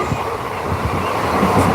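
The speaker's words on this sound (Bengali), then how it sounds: "এ দেখো ট্রেনের ভেতরে" Steady low rumble and rattle from inside a moving train on a rainy journey, continuous and fairly loud with faint rhythmic wheel knocks, no talking.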